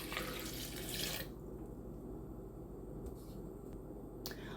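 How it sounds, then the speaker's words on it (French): Water pours briefly into a blender jar of coriander, a close, splashing rush lasting about a second before fading to a low, steady background hum with a few faint drips. "On ajoute de l'eau."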